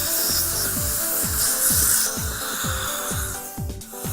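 A dental handpiece spins a wide polishing cup at 7,000 RPM over Venus Supra composite, a close, steady whirring rasp with rhythmic pulsing strokes and no talking.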